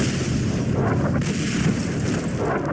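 Rocket explosions in the game Fallout New Vegas rumble as a dense, continuous boom with crackling low-end debris, loud and close throughout with no distinct separate blasts.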